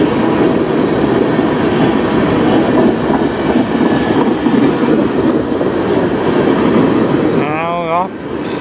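Freight train of tank cars rolling past at night in Sarnia, Ontario, a steady loud rumble and wheel noise throughout, with a brief squeal near the end.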